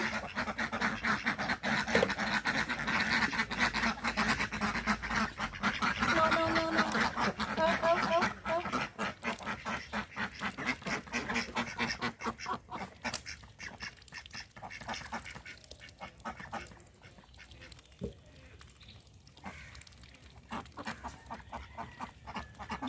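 Domestic ducks penned behind netting quack in a busy, overlapping chorus close by, steady through the first half and thinning to scattered calls later.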